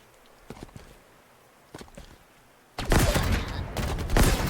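Gunfire in the Halo Infinite video game: a few sharp scattered shots early on, then from about the three-second mark a dense, loud, sustained burst of rapid automatic fire that continues to the end.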